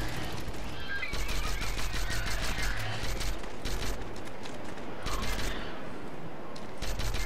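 Rapid bursts of gunfire in the video game How to Survive, a dense crackling fusillade over game sounds, with a voice talking over parts of it.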